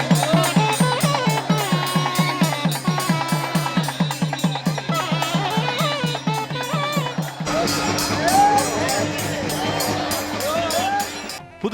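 Devotees at a Murugan temple's Soorasamharam festival clap in a fast, steady rhythm with chanting, the loud beat running beneath a continuous crowd roar; the clapping drops out partway, leaving the crowd and voices.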